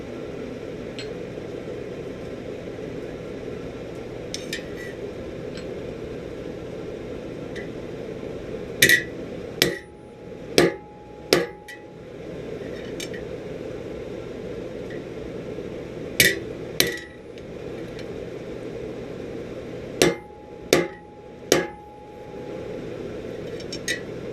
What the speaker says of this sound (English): we're using a good 1/4 inch punch on the bottom right there